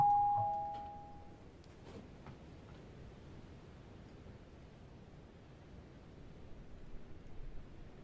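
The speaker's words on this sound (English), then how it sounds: "Doorbell." A doorbell rings once in the video game Night Delivery, a brief tone at the very start that fades quickly into a steady low hiss of background noise.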